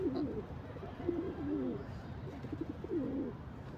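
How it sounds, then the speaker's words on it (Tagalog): Pigeons cooing in a London park, a steady run of soft low coos close by over a constant outdoor background hum, with no talk. "Kalapati."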